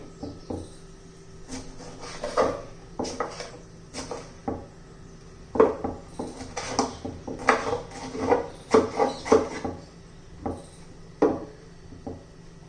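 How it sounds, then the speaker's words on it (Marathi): Tomatoes chopped finely with a knife on a board, heard as a run of crisp, close taps, irregular at first and then quicker and denser, with short pauses between bursts and nothing else around them. "टोमॅटो बारीक चिरून घेणार आहोत"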